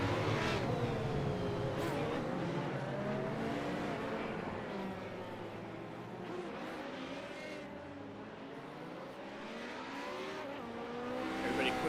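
Radical SR8 race cars roll behind a pace car at Laguna Seca in the iRacing sim, engines droning and revving in overlapping waves as the pack moves, with a commentator talking over the steady engine noise.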